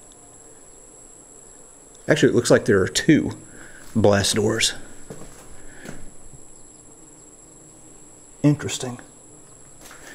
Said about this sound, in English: I'm also hearing a buzzing sound, like there's a nest of wasps or something